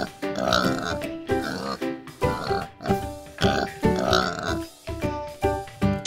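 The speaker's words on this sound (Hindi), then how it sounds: "पिग मींस सुअर" A pig grunts and oinks up close in a run of short, rough, throaty bursts with brief gaps between them, loud and on its own without any talk.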